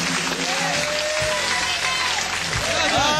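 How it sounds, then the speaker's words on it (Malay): A studio audience at the Raja Lawak comedy competition applauds steadily and loudly throughout, while a host talks over the clapping. "Beri tepukan lagi sekali untuk Willy."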